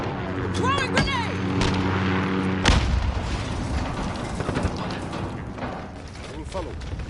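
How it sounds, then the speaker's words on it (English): A grenade thrown and going off in a first-person shooter game, a loud booming blast cutting through a busy mix of mechanical game sounds and background chatter, followed by lingering rumbling noise. "Throwing grenade."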